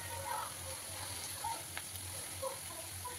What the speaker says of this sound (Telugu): దీంట్లో కారం పొడి వేసి కొంచెం ఫ్రై అవ్వని